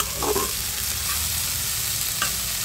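Coriander leaves fry in a pan for a mash dish with beans and shrimp, a steady soft sizzle throughout with a brief stirring scrape near the start and another near the end, no voices.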